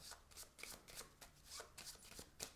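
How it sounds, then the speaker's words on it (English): A deck of playing cards being shuffled during a solo tabletop card game, a rapid run of papery riffling bursts, fairly close and steady, with no talking. "I'm going to shuffle my deck now, just so that way it's ready to go."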